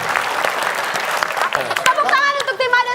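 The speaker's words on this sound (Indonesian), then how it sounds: "Tepuk tangan untuk tim A dan tim B" Applause from a studio audience on an Indonesian comedy quiz show, clapping rising over about three seconds with voices and laughter mixed in, ending under brighter tonal sounds.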